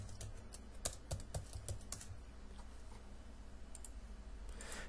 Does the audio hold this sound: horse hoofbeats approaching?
no